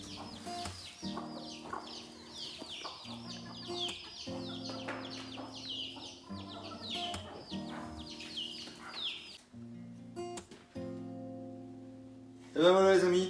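Hens on a farm clucking repeatedly at close range in choppy bursts, with a louder squawk near the end and no talk.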